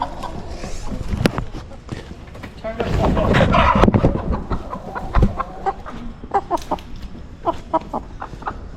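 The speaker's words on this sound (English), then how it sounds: "So all three of the kids have 3 chickens here." Chickens cluck and squawk in the pens of a poultry show, with sharp calls and bursts of wing flapping over a busy background as people talk nearby.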